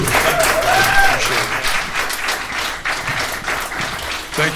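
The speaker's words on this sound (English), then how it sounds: "I do want to give a round of applause to Brian, our speaker tonight" An audience at an evening talk event applauds its speaker, with steady moderate clapping throughout and a few voices faintly mixed in.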